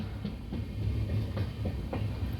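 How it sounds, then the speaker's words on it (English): Cuddalore to Mysore Superfast Express moving after leaving Chidambaram station, heard from inside: steady low rumble with rhythmic clickety-clack of wheels over rail joints, moderately quiet. "This train is coming from Cuddalore to Mysore Superfast Express."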